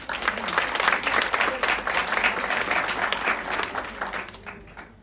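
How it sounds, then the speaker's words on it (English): An audience gives a warm round of applause for the Deputy Minister at a children's dialogue event, with dense, even clapping holding strong throughout before tapering off at the close. "we should be giving the Deputy Minister another warm round of applause"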